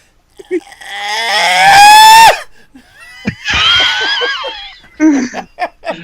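A voice imitating a little girl screaming, one long rising high-pitched shriek followed by a second shorter shriek, then giggles and laughter, loud and close.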